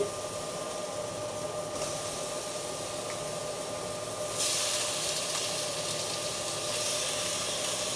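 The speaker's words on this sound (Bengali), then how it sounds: "এখন মাংসটা ঢাইলা দিব এই যে দিয়ে দিতেছি" Spiced meat hitting a hot pan, a steady broad sizzle and hiss that swells noticeably louder partway through as more meat goes in, heard close with a faint background hum.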